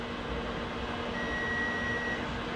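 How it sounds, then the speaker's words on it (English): A kitchen timer sounds in a home kitchen during knife testing, giving one sustained electronic beep of about a second over a steady background hum, with no voices. "Let me get this timer off."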